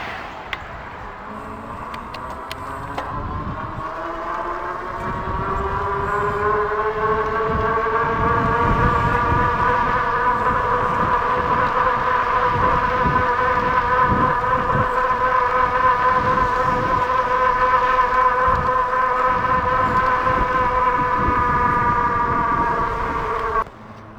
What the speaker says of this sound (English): I'm gonna jump on the electric bike here and pedal as hard as I can and see what top speed we get out of it